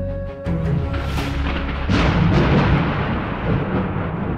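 Thunder cracks and booms during a rainstorm, a loud rumbling roll that swells suddenly and sustains heavily over a rushing, noisy background.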